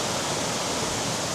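Arawaka Falls, a waterfall beside a highway, roars as a loud, continuous rush of falling water, dense and close with no break.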